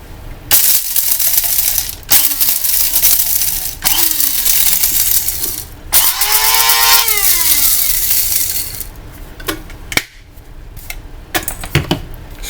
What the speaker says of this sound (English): Grind them up too.